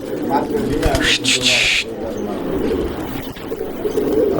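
Male fancy pigeon cooing in repeated soft, throaty coos close by, while people talk over and around the calls.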